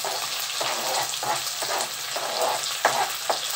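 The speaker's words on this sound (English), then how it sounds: "I'm gonna go ahead now and add the onions to this." Onions added to a pan of frying sausages and bacon, with a steady close sizzle and soft stirring scrapes recurring every half second or so.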